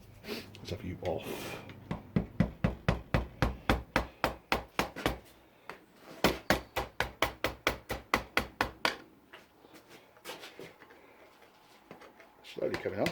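A decent-sized hammer strikes a ring on a part of a 1980 Land Rover Series 3 109, delivering two long runs of steady, sharp metallic blows at close range, with brief talk at the start and end.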